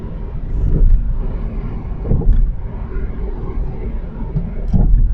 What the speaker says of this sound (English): You can see the amount of wet snow going through my tires.